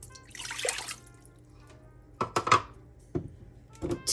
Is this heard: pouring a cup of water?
yes